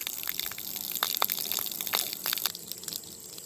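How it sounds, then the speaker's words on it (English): Water gushes out of a pipe from a newly connected water tank tower onto a concrete slab, an uneven splashing rush with bursts and spatters, moderately close. "That's how the water is flowing out now."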